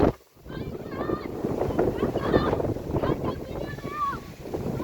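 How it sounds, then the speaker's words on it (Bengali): Strong gusty wind before a nor'wester storm blows steadily across the microphone with a roaring buffet, while a person talks over it throughout. "প্রচন্ড বাতাস, বাতাসের গতিবেগ মারাত্মক।"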